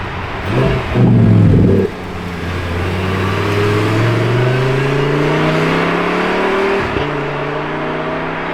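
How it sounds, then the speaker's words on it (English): A Lamborghini Huracán Tecnica's V10 engine revs hard and accelerates, its rising drone climbing steadily for several seconds before a brief gear-change dip, then pulling on, loud and fairly close. "Oh, I hear another V10. Ooh, okay, it's a Tecnica."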